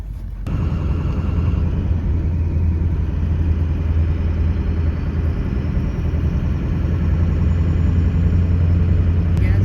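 Two trucks tow a dump truck along a road, a steady low engine rumble and drone with road noise holding constant and fairly loud throughout, no voices.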